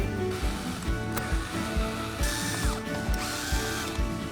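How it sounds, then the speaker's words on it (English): Screws backed out of a whole-home dehumidifier unit with a ratcheting driver, quick rhythmic clicking strokes with a faint whirring tone, close and steady, no voices. "Now we're going to remove these 4 screws"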